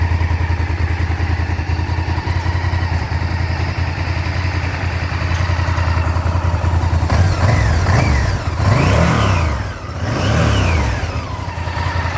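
A 1997–98 Honda VTR 996 big V-twin motorcycle idles loudly close by with a steady throb, then revs up and down in several rising and falling sweeps.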